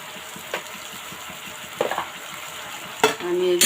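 Ginger, cumin and white and black cardamom paste sizzles in a pan, with a spatula stirring and scraping in a few distinct bursts against the steady frying hiss, close up and without talk.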